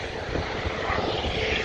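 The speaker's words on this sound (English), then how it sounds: "And finally our helicopter friend decides to go." A helicopter takes off at an airfield in Malta, a steady, dense engine-and-rotor roar at moderate distance that holds unbroken through the brief moment, with no talk over it.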